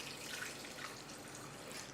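Coconut water, about a cup, pouring for a smoothie, heard as a steady close liquid splash and trickle with no break across the short stretch.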